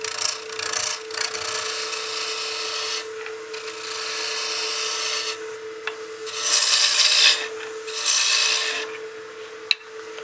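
A wood lathe trues up a baseball bat blank, with a steady motor hum under bursts of rasping, scraping cuts that come and go as the tool meets the spinning wood.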